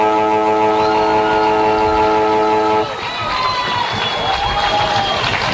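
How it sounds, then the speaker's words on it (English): A loud, steady siren blares for nearly three seconds to end the 2018 Bendigo reserves grand final between Strathfieldsaye and Sandhurst at a country football ground, then cuts off into a roaring, cheering crowd. "There it is, the final siren"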